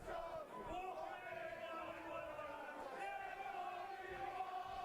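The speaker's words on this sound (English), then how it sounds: "the Farnsworth crowd's going mental" A snooker crowd at a money match in Antrim cheers and shouts in a steady, sustained roar, heard faintly at a distance.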